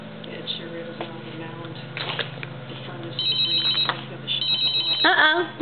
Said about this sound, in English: there goes the phone ringing again